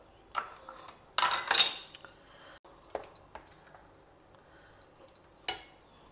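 Dry fruits dropping into a pan of Suji Halwa cooked in ghee, giving a few scattered clinks and rattles with a denser clattering burst early on and another sharp clink near the end, close and fairly quiet.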